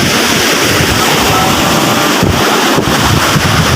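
A loud, continuous roar of rough ocean waves with wind buffeting the microphone, close and unbroken.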